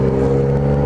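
A Yamaha MT-09 motorcycle engine drones steadily and loudly at high speed, a sustained near roar without breaks in heavy traffic on an urban highway.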